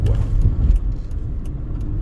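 A car cruises on Interstate 15 beside the Las Vegas Strip, a steady close rumble of engine and road noise with a few faint clicks.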